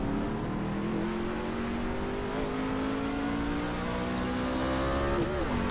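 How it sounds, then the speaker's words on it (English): A NASCAR race car engine roars in a racing video game, a steady high-revving drone with shifting pitch that climbs gradually, loud and continuous throughout without speech. "Oh, she's a powerful car."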